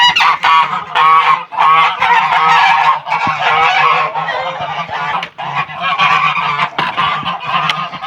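Mammoth geese honk loudly at their nests, a dense, continuous chorus of nasal calls from several birds close by.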